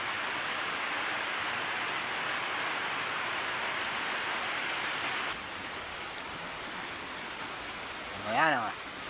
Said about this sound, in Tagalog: At magdamag na naulan.